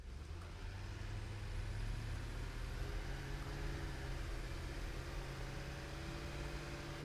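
A tractor being driven in the factory-building video game Satisfactory gives off a continuous, even engine drone with a low rumble that holds steady throughout, with no talking over it.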